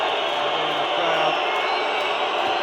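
A handball arena crowd at a Serbia versus Denmark match whistles steadily to distract the Danish team, a dense, continuous wash of shrill whistles and crowd noise with no breaks.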